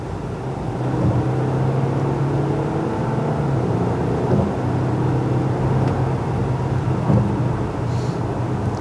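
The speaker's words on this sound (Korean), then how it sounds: "3리터급의 그 디젤 엔진을 탑재하고 있는 만큼 상당히 준수한 그런 가속 능력을 보여줍니다" A Volkswagen Touareg SUV with a 3-liter diesel engine accelerating on a highway, its steady engine drone and road roar heard from inside the cabin, continuous and loud.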